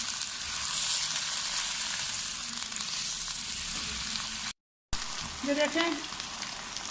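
Chicken frying with onions in a pan for biryani, a steady loud sizzle that continues after a brief cut, with a voice talking over the cooking.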